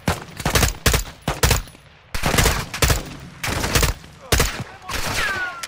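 Gunfire in Call of Duty: Modern Warfare 2, with repeated loud bursts and single shots in quick succession, dense and close, with short gaps between volleys.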